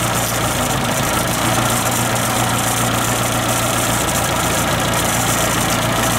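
A Suzuki Samurai's 1.3L engine idles steadily at about 800 RPM, a close, even mechanical drone with a low throb that holds constant throughout, with no voices over it.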